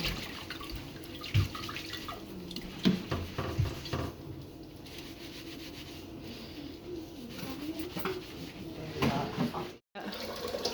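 Water running from a tap into a sink while felting a wool hat, with splashing, rubbing and handling noises and a brief cutout near the end.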